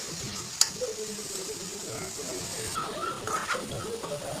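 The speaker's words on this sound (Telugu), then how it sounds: "ఈ మంచి ఆయిల్లో వేయించుకొని పక్కన పెట్టుకోవాలి. బ్రౌన్ కలర్ వచ్చే వరకు" Small prawns frying in oil until browned, a soft, quiet sizzle with light stirring clicks and a faint voice in the background.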